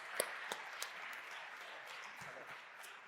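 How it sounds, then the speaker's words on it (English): Audience at the Catalan Pitch Competition final in Barcelona breaking into applause after a startup pitch, a steady dense crowd clapping with a few sharp louder claps near the start, moderately distant. "Big applause."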